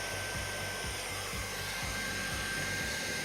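Hot air plastic welder blowing while melting a plastic corner, a steady loud whooshing hiss with a faint rhythmic low thumping underneath, continuous and close with no talk.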